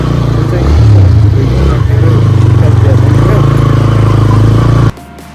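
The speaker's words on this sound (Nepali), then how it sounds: "हल्का प्रब्लम आयो यो बाइकमा" Motorcycle engine with a throttle cable fault, loud, close idling and uneven revving that rises and settles before abruptly cutting off, with people talking nearby.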